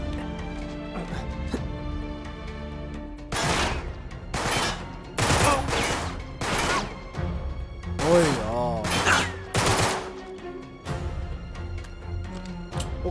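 Enemy gunfire in the Uncharted video game comes as repeated loud bursts and volleys of shots, spaced by short gaps, with a voice talking over the fighting.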